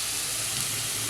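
Potato pieces frying in hot oil give a steady, dense sizzle that holds evenly at a moderate level with no voices over it.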